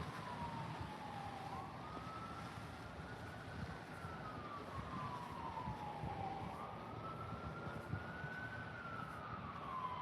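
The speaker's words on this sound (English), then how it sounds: "There's a siren right now." A wailing emergency siren rises and falls slowly in long sweeps, somewhat distant, over steady traffic and wind noise.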